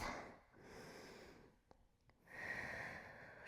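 A person breathes heavily during a Pilates stretch at home, with slow, audible inhales and exhales close by, a couple of soft clicks in between, and no talking.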